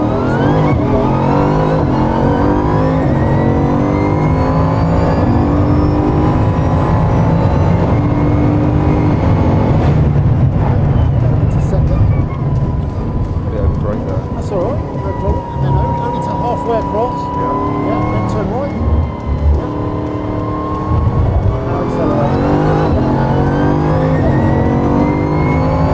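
A high-performance, extreme car driven flat out on a flying lap, engine loud and close throughout with continuous high revs, brief lifts and shifts around the middle, and voices talking over the roar.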